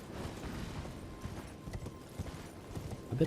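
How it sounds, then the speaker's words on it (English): Galloping horse in the Elden Ring video game, a steady rapid clip-clop of hooves running throughout, moderately loud with low rumbling game ambience beneath. "Run, horsey, run."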